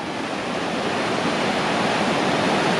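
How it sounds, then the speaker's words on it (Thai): Waterfall in southern Laos roaring steadily and loudly, a dense unbroken rush of falling water close by with no voices. "อันนี้เป็นน้ำตก"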